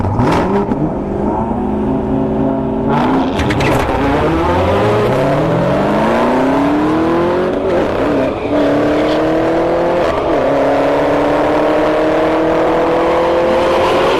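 A ZL1 Camaro and a Q50 drag race at a Bradenton street-heat event, engines revving hard and climbing through repeated gear shifts, loud and close throughout.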